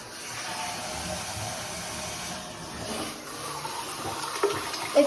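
A smart toilet flushes with a steady rushing wash of water that holds for several seconds, close and fairly loud, ending in a few small knocks.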